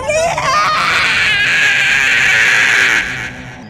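A trapped smoke spirit shrieks in a long, piercing, wavering wail that stays loud and close for about three seconds before trailing off, a sustained horror-style scream with no talk over it.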